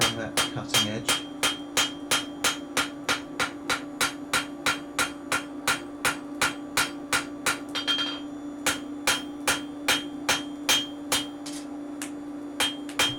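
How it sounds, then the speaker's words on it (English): A billhook's cutting edge is hammered in a steady rhythm, about two sharp ringing metal blows per second, close and clear, continuing with only a brief pause. "Carry on hammering that cutting edge."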